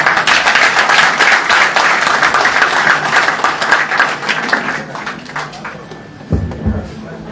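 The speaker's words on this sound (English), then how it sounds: "Another round of applause for the newest Inspector General of Police, Federal Republic of Nigeria" Loud, dense audience applause at an event for the new Nigerian Inspector General of Police, sustained clapping from a large crowd that thins out and fades toward the end.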